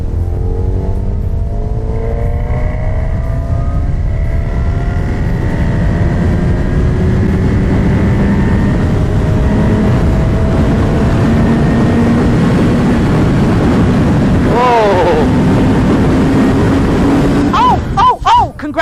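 A Honda Hornet 1000 motorcycle accelerates uphill in sixth gear, its engine note rising steadily under heavy wind rush for a long, loud stretch, ending with a brief voice.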